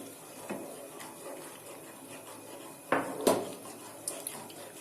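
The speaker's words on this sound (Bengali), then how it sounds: "চিনিটা দিয়ে খুব ভালো করে এটাকে নেড়ে নিতে হবে।" Sugar is stirred into milk in a pot, a faint close swish of liquid with a few brief metallic clinks and scrapes of the spoon against the pot in the middle and toward the end.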